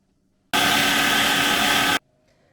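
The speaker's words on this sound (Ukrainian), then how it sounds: "Через 5 хвилин розмочений хліб пропущу через м'ясорубку." Electric meat grinder mincing milk-soaked stale white bread, a loud steady motor whir that starts abruptly, holds for about a second and a half, then cuts off into quiet.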